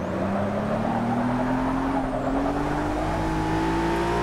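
A 2017 Ford GT race car engine in Forza Motorsport 6 drones loud and steady, its pitch climbing slowly as it accelerates, with other race cars faintly audible around it.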